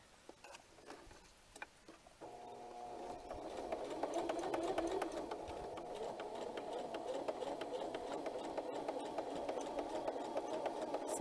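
A home sewing machine, first turned by its hand crank for a few ticking stitches, then running steadily under power with a continuous rhythmic mechanical whir, close and fairly quiet.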